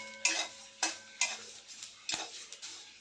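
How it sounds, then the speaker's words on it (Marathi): Drumstick (moringa) leaves stir-roasted in a hot kadai until crisp, heard as a run of close scraping stirs every half second or so, with faint crackling between strokes and no talk. "आता कढई गरम आहे त्यामध्येच आपण शेवग्याची पानं थोडीशी कुरकुरीत होईपर्यंत परतून घ्यायचं"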